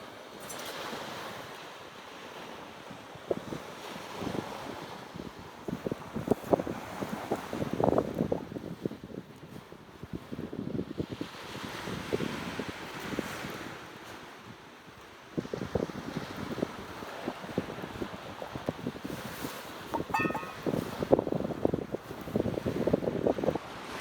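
Winter sea on the Hokkaido coast, with waves washing and breaking in irregular surges under gusty wind buffeting the microphone, moderately loud and continuous with no voices.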